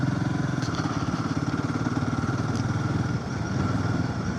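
A motorcycle engine chugs steadily at close range with a loud, even rhythmic thrum while riding a rough mountain road toward Manali at sunset.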